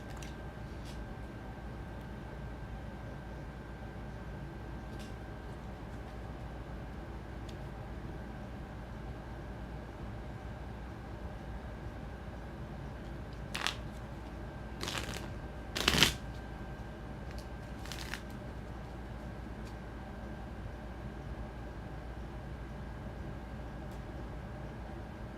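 Tarot cards are shuffled in a quiet room, a few faint riffling bursts clustered in the middle, with the loudest quick flutter near the centre and a steady faint background hum throughout.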